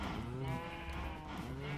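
Cattle moo in the Minecraft video game, several overlapping low, drawn-out calls filling the short stretch with no talk over them.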